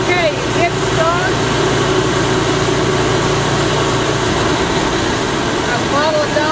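A vehicle engine cranking and catching with a Goodall Start All model 610 12-volt jump starter, then settling into a steady idle, close and loud, with talking over it.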